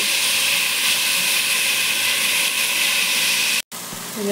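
Tomatoes sizzle in a hot pan over sautéed onions for a Filipino-style melokhiya dinner, a steady, loud broadband hiss close by and alone, with a sudden brief dropout near the end.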